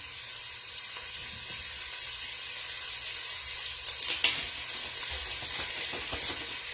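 Chopped onions for clam chowder sizzle and fry steadily in a hot pan, a continuous bright crackle with occasional stirring scrapes and a brief louder spatter, close and without talk.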